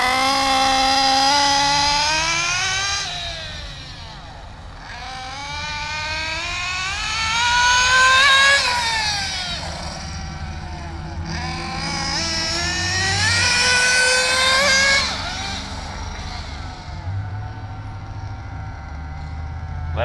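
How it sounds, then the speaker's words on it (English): An engine on a break-in run is pushed to full speed, giving a loud, high-pitched whine that climbs and falls in repeated surging waves with no talk over it. "I'm going to hit full speed, only for a brief moment though, and do about 150 feet."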